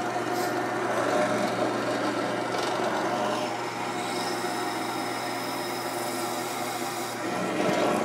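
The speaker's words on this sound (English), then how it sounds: "I like to drill straight through with the other piece as a guide." A power drill grinds steadily through material, a continuous whirring, rasping drone at close range with slight changes in pitch and load.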